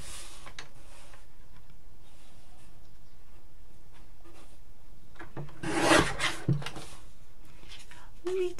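A part for a non-scale 6x6 RC car is trimmed with a rasping, rubbing sound in short close strokes, under soft background noise, with a louder burst of scraping near the end.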